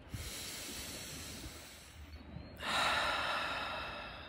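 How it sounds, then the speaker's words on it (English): Slow, deep breathing during a guided breathing exercise: a long, soft inhale hiss, then a louder, breathy exhale, close to the microphone with no talking. "Breathe with me."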